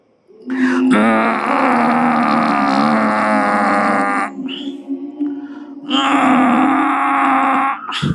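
A voice imitates snoring with long, harsh, droning rasps, two sustained loud pulls separated by a short breathy pause.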